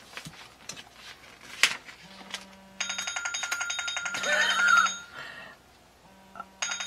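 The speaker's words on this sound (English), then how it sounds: "That was Brooke's ringtone. It's like, sounds like Flintstones, doesn't it?" A phone ringtone with a tune like the Flintstones theme chimes in a bright melodic phrase, alongside alarm-like beeps and tones, during a live stream about stamping craft supplies.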